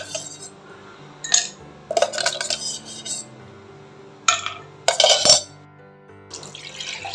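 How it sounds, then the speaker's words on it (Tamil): Ice cubes clink and clatter into a glass tumbler while making nannari sharbat, a summer cooler, in a few bright separate bursts of rattling, fairly close, with quiet gaps between them. "இந்த கிளாஸ் டம்ளரில் ஐஸ் கியூப் சேர்த்துக்கலாம்"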